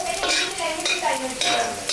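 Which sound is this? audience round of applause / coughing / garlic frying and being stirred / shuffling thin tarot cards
garlic frying and being stirred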